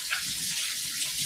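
Tap water runs steadily into a sink while someone washes their hands, a soft continuous splashing hiss close by.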